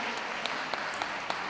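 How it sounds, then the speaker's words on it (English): A crowd at the WELKS dog show applauds after the Hound Group judging, with brief, dense clapping and a few sharper individual claps standing out. "Give them a big round of applause, everybody."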